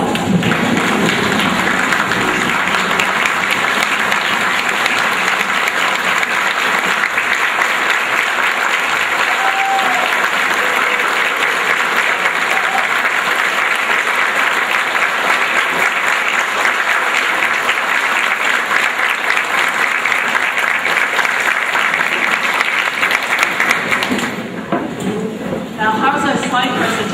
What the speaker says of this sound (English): Would you all stand and give them a rousing round of applause?